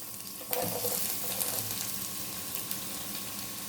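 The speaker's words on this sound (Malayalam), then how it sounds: "നമുക്ക് ഇതിലേക്ക് നമ്മുടെ സബോളയും പച്ചമുളകും ഇഞ്ചിയൊക്കെ ചേർത്ത് കൊടുക്കാം." Onion, green chili and ginger drop into hot coconut oil in a kadai with a soft splash, then settle into a quiet, steady sizzle with occasional stirring.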